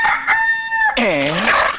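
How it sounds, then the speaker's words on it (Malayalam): A rooster crows once, loud and close: a sustained bright call that drops into a wavering, falling finish. "നേരം വെളുക്കുമ്പോൾ കോഴി കൂകുന്നത് എന്തുകൊണ്ട്?"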